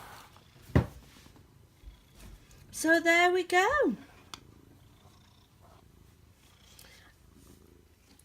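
A nearby cat lets out a short, rolling, engine-like purr for about a second. A person speaks a few words quietly.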